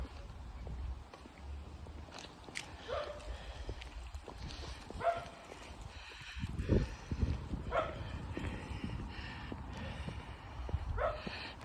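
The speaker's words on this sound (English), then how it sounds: "A wee dog barking next door." A small dog barks repeatedly next door near a Presbyterian churchyard in Castlereagh, short yaps spaced irregularly at moderate distance, mixed with outdoor background noise and occasional movement sounds.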